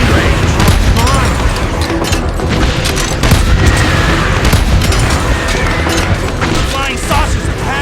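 Rapid gunfire and booming blasts from the video game Earth Defense Force 5 fight against monsters and aliens, loud and continuous, with a voice talking over the shooting.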